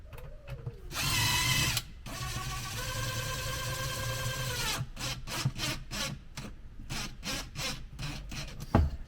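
A power driver tightens bolts on a pontoon boat armrest: a rising whir, then a long steady drive, followed by a run of short rapid bursts as the bolts seat, close and fairly loud.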